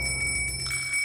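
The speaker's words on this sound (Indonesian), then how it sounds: "besi-besi mulai tertiup angin dan berbunyi" Loose metal pieces knock and ring together as the wind catches them, producing a bright, bell-like clang that repeats in a few close, uneven strikes with a steady ringing tone underneath.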